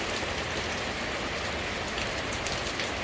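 Heavy rain falls steadily, a dense, loud, continuous patter with no talking.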